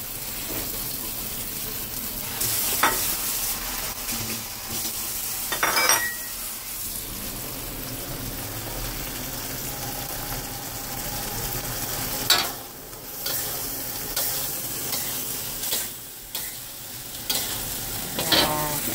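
Shrimp fry in a pan for a sweet and sour dish, with a continuous sizzle broken by repeated scraping stirs and occasional metallic clinks of the utensil against the pan.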